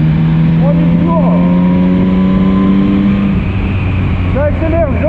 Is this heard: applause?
no